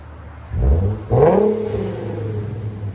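Deep 2016 Infiniti Q70 S 3.7L V6 aftermarket exhaust blips twice, loud and close, each rev swelling then dropping away into a steady low idle.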